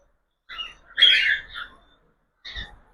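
Cockatiels chirp in their cage, with a brief scratchy call, a louder burst of squawky chatter and then a short final call, close by with quiet gaps between.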